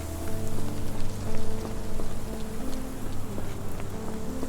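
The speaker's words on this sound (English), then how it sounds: "This dreary rain is making a miserable day even worse" Steady rain pours down in the video game Sherlock Holmes The Awakened, a dense, even hiss of drops on surfaces that continues without pause beneath low, sustained musical drones, with no voices.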